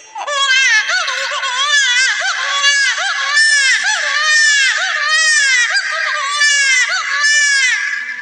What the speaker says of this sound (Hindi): ये तो कोई छोटी बच्ची की रोने की आवाज लग रही है